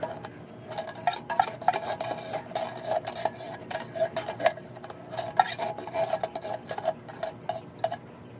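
Macaroni salad stirred with a utensil in a bowl, giving a steady run of soft clinks, scrapes and wet rubbing, close and moderately quiet, with no talking.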